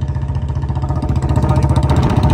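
A Royal Enfield Bullet motorcycle, stuck in a farm field, runs with a steady low engine throb that builds slightly louder toward the end, close and continuous with no voices.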